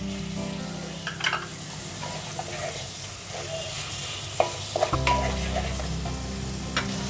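Masala spices roasting in a pan for paneer chana masala, a steady low sizzle with scattered scrapes and clinks of stirring, close and fairly quiet, with no talk.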